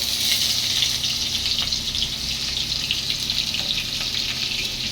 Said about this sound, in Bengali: পেঁয়াজটা আমি লাল লাল করে ভাজবো।